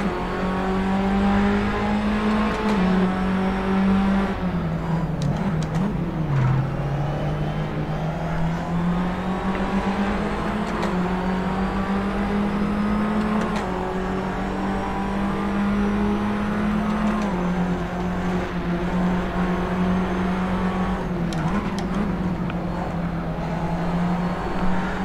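A race car accelerates hard in first gear, its engine droning loud and continuous and rising and dipping in pitch as it pulls away, with other cars nearby and no speech.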